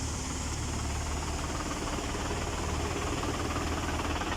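A tractor engine left running, a steady rumbling idle with constant low vibration and knocking, loud and unbroken throughout with no voices.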